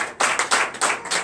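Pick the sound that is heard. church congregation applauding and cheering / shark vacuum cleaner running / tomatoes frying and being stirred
church congregation applauding and cheering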